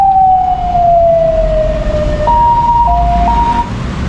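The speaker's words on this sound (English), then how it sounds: "This is an ambulance. You see what the Taiwanese ambulance look like." A Taiwanese ambulance siren in Taipei traffic: a loud, close wailing tone sliding down, then switching to a two-tone alternating pattern, over a low rumble of traffic engines.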